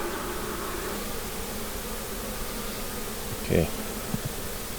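Honeybees hum in a steady, dense drone at a mini mating nuc. The buzz holds even throughout, with a brief closer buzz near the end and a single short spoken word over it.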